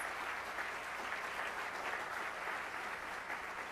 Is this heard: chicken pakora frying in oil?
no